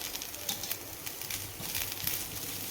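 Fresh coriander leaves dry-roast in a hot pan with grated fresh coconut for dosa chutney, making a continuous crackling sizzle with small irregular pops, close and moderately loud.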